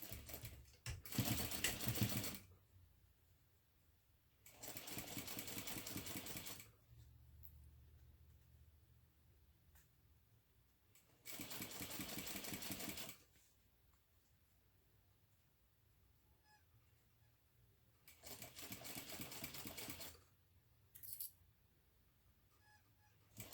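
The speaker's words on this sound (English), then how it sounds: "now we're going to sew that together using a 1/4 inch seam allowance" A sewing machine with a zipper foot runs in several bursts of fast mechanical stitching, each lasting a couple of seconds, separated by quiet pauses.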